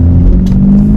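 BMW 430i Gran Coupe with the B48 engine, a loud close-up deep exhaust rumble with a slight rise in revs over about one second.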